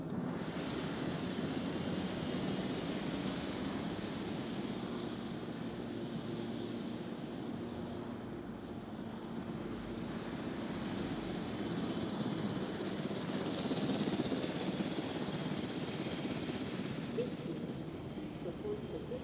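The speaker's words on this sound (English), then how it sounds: "as the helicopter is standing by" A steady, droning helicopter engine hums from a Jurassic World Evolution game, holding a constant whirring roar throughout with only slight swells in loudness.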